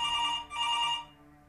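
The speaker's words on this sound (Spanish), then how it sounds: "Suena el teléfono" A telephone bell rings in a single loud burst with a brief break, then cuts off, clear and close with no talk over it.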